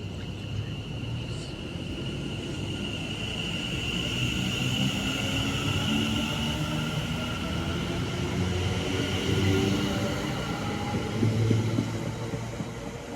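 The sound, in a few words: Avanti West Coast train passing through station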